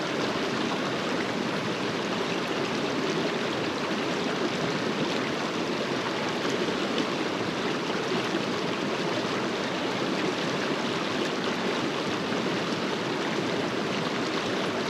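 Creek flowing near a lake in a provincial park, a steady, dense rush of water that stays even and continuous throughout.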